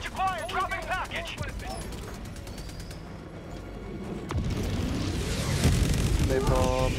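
Heavy bombing explosions in Helldivers 2 build from scattered distant booms into a louder, dense rumble of blasts, overlaid with a chirping, tonal voice-like radio callout and background chatter.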